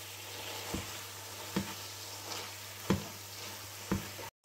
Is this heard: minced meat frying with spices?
yes